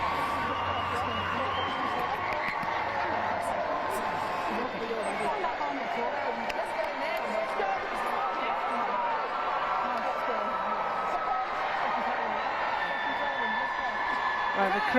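Steady crowd murmur and cheering fill a rugby stadium during a Community Cup finals match at Allianz Stadium, a continuous distant roar of many voices with no single sound standing out.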